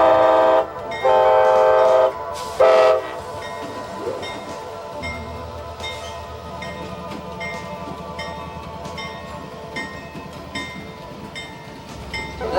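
A train blasts its horn in several loud, sustained bursts, then rumbles past with rolling rail noise and faint clicking that fades gradually.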